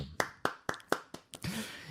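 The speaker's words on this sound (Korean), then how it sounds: "아, 박수." A handful of sharp, separate claps ring out in an even rhythm, five or six close hand strikes in a quiet room, followed by a brief wash of softer noise at the end.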